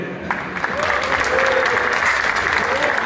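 Audience at a DJ battle clapping for one of the DJs, dense applause swelling and holding steady after a brief start, with crowd voices mixed in.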